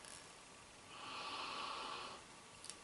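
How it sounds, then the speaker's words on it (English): A single long, soft nasal sniff of a dark stout beer, drawn in close to the microphone for about a second, followed by quiet. "go for a sniff."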